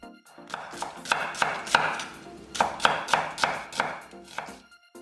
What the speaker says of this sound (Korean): 양파 1개는 반을 갈라서 살짝 굵게 채 썰어